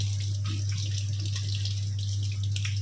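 Tap water runs steadily over home-grown herbs being rinsed in a kitchen sink, a continuous close splashing wash under a low electrical hum, no talking.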